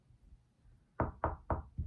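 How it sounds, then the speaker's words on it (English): Four firm knocks on a door, evenly spaced and close, land after a quiet pause with a faint low rumble beforehand; no voices. "there was a knock"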